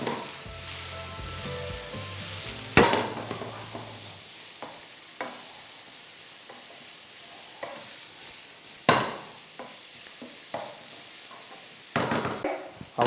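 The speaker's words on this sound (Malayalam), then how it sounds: "സവോള നന്നായിട്ട് വാട്ടിയെടുക്കുക" Chopped onions salted in a kadai sizzle steadily through the clip, broken by several sharp stirring scrapes and knocks of a spoon against the pan, no voices.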